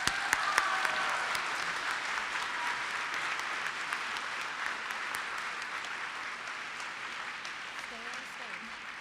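Sustained applause at a girls' math prize award ceremony as the top winners are honored, an even, moderately distant wash of clapping lasting the full nine seconds with a few sharper claps near the start.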